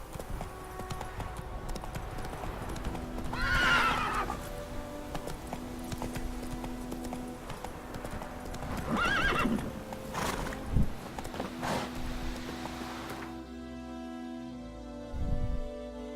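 Roach, the horse in The Witcher 3, gallops with hoofbeats over game music and gives two loud whinnies several seconds apart before the sound thins out near the end.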